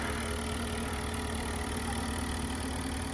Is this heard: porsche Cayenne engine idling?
yes